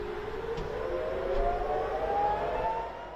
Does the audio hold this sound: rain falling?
no